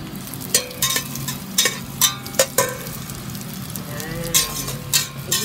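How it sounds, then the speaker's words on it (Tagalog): Tulingan fish sautéing in a pan sizzles steadily, with repeated sharp scraping clatters of a utensil stirring at a roughly regular rhythm, close and fairly loud. "igisa natin muna yung tulingan"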